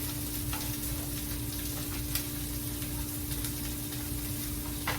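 Rice and onions sizzling steadily in a hot pan for fajitas, a dense continuous frying hiss with occasional louder crackles and a faint steady hum beneath, no talking.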